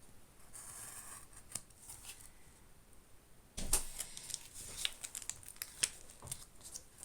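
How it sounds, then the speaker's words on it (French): Scissors snip through pieces of paper while assembling a painting-studio curiosity cabinet kit, quick close cuts and faint crinkles, with a louder burst of handling midway and no talk. "Hop, je viens découper ici."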